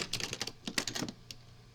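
Quick bursts of clicking keystrokes on a computer keyboard, close and crisp, with an irregular rhythm of rapid taps that thin out toward the end.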